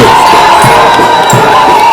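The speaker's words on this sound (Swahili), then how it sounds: "Kwa vigelegele kina mama, kwa vigelegele." Women ululating in a loud, dense crowd to welcome President William Ruto in Nyamira, Kenya, shrill trilling cries blending with cheering and shouting, close and continuous throughout.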